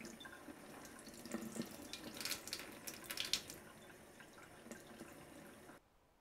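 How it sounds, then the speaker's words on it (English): Tap water runs and splashes over a circuit board during a rinse to wash off solvent, a soft, steady faucet stream with brief louder splashes, faint and close, stopping just before the end. "But for my purposes, tap water will do just fine for the washdown."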